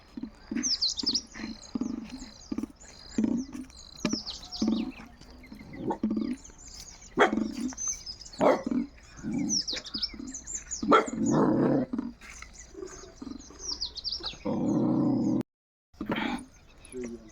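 A small dog barks in short repeated bursts amid birds chirping overhead, with people talking nearby in between.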